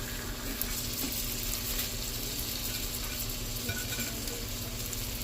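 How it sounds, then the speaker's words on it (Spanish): Salmon fillet frying in a hot pan, a steady loud crackling sizzle that continues unbroken throughout, close up with no talking. "aquí ya vamos a echar el salmón el primero"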